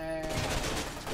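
A shotgun blasting in the shooter game F.E.A.R. 2, one short, loud, booming shot with a rough, noisy tail that fades over about a second.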